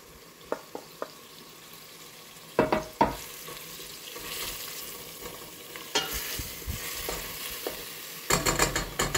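Chopped tomatoes and onions sauté gently in a pan over low heat for lentil soup. A low sizzle runs under scattered clicks and scrapes of stirring, growing louder and busier partway through and again near the end.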